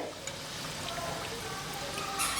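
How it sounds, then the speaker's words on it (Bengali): Coconut-carrot pitha frying in hot oil, a steady close sizzle and crackle running throughout at an even level with no voices over it. "আমি গোল্ডেন কালার করে পিঠাগুলোকে ভেজে নিব"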